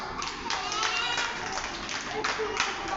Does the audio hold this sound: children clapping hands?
yes